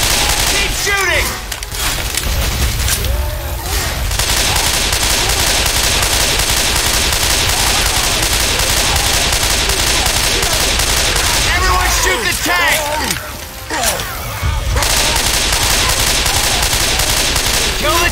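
Sustained gunfire in Left 4 Dead 2, loud and dense rapid shots firing almost continuously, with brief lulls and splintering impacts, close and dominant throughout.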